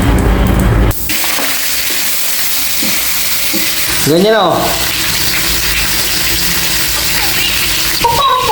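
Fatty pork sizzles in its own rendered fat for binagoongan, a steady close hiss and crackle throughout, with a brief spoken phrase early and a short whistling squeal midway.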